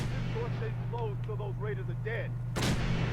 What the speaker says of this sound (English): This fool is like shooting into the floor, though.